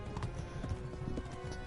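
Horse hooves clip-clop steadily during a mounted escape from an army attacking Skalitz in Kingdom Come Deliverance, with a busy battle ambience behind the close, rhythmic hoofbeats.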